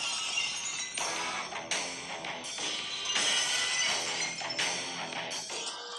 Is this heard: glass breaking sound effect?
yes